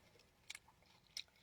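Quiet, close crunchy chewing of grapes, with two distinct crisp bites standing out against a soft background.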